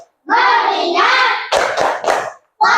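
Pupils in a classroom doing the tepuk fokus routine, a loud unison children's chant followed by three sharp, evenly spaced group claps, then the chant starting again.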